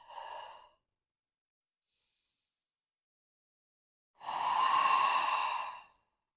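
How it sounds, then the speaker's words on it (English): During a yoga practice, a person takes two slow breaths: a short one, then after a pause a long, deep, airy exhale, close and soft with no talking. "Deep breath."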